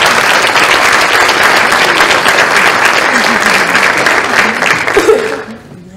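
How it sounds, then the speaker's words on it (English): An audience at an awards ceremony claps steadily in a dense, loud wash of applause that carries on evenly, then fades at the end. "Let's give them a round of applause."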